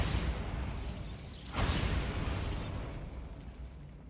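A Bombarda spell explodes in Hogwarts Legacy: a sudden whooshing burst about a third of the way in rises over rumbling game ambience, then slowly fades.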